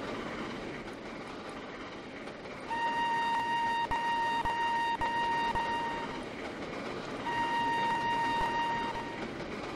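Steam locomotive running at high speed on the Settle and Carlisle route in the Trainz game, a steady rolling rumble with rhythmic clicks and two long sustained whistle blasts, no talking.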